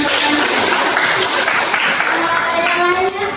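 A classroom of students bursts into loud, dense applause that carries on steadily, with children's voices mixed in and a bright, close sound.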